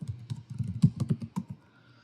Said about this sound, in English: I will start typing my code